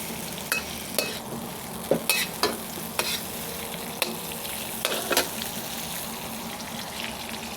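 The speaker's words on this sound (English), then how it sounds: "Just slowly melt the butter." Butter melting in a pan on the lowest heat for salted egg yolk shrimp, a quiet, even sizzle broken by scattered clinks and scrapes of a utensil against the pan, no voices.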